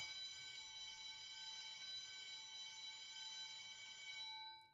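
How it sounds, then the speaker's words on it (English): Steady electric bell ringing continuously at a moderate level, a sustained metallic tone that runs unbroken and then cuts off near the end. "Goddamn bells."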